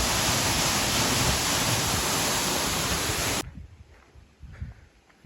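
Water gushes steadily from the end of a 1700-foot farm pipeline as a close, even rushing, then cuts off abruptly partway through, leaving faint background sound.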